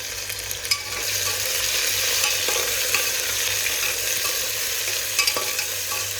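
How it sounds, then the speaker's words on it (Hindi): Chopped onion, tomato, garlic and chili sizzle together in a hot pan, a steady broad hiss with a few faint scraping stirs and no voices. "अब डाल देंगे इसमें सारा कटा हुआ प्याज, टमाटर, लहसुन, मिर्चा सब डाल देंगे एक साथ।"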